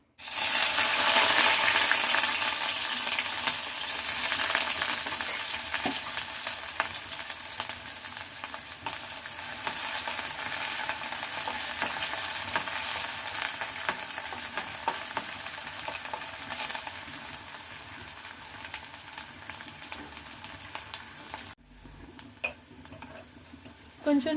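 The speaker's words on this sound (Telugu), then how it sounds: "నల్లేరు కాడలు కూడా వేయించుకుందాం." Nalleru (veld grape) stems are fried in hot oil, making a steady, crackling sizzle that is loudest at the start and continues throughout, with occasional small clinks and stirring noises.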